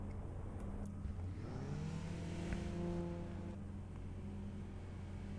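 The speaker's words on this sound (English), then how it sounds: "Nice little cutscene of us driving out of the garage there" A car's engine hums steadily as it rolls out of a garage in a Need for Speed game, its tone rising and falling through gear changes, with a continuous low drone and a faint whir on top.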